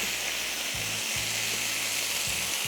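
Chicken shashlik pieces with onion and tomato sizzle steadily on a hot grill, a loud, continuous frying hiss with a few low clunks as pieces are set down.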